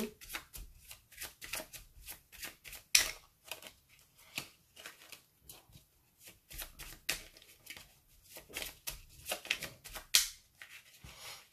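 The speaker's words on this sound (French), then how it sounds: "je vais mélanger les cartes parce qu'elles ont tendance à revenir sur ce jeu" Oracle cards being shuffled by hand, a steady run of crisp riffling bursts and soft flicks repeating in quick, uneven rhythm, close and fairly quiet throughout.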